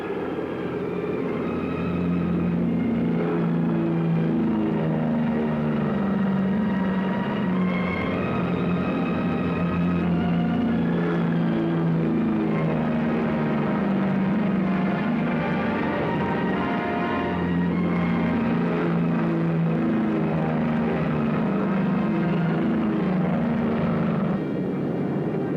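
WWII aircraft taking off one after another, a dense, continuous droning roar of piston engines that holds steady and loud throughout, with shifting engine tones as planes pass.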